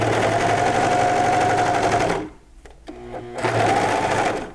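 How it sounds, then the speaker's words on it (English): A serger sewing machine stitches through fabric for pajama pants, a loud, close, rapid whirring that stops for about a second with a few small clicks, then starts again. "and keep serging"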